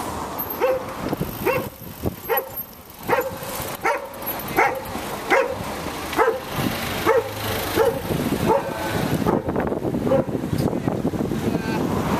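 Dogs barking outdoors during a Sunday trike ride, a run of regular barks at medium distance for most of the stretch, with wind buffeting the microphone and growing road noise toward the end.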